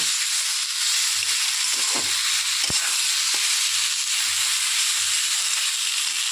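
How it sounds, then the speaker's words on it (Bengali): Vegetables with ginger, mustard seeds, green chilli and cumin sautéing in a pan give a steady, dense hiss of sizzling oil, broken by a few faint clicks and taps from stirring. "আদা দিয়ে ভালো করে একটু কষিয়ে নেব।"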